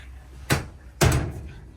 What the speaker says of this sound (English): Smooth door for the closet.